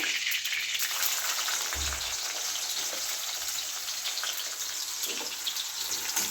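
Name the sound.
sliced onions frying in a pan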